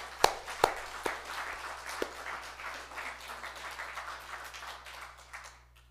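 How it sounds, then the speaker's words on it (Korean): A church congregation applauds during a worship service: a few sharp, close claps at the start, then a softer, even wash of clapping that fades away toward the end. "우리 한번 그 하나님께 좀 큰 박수를 한번 올려드리시길 바랍니다."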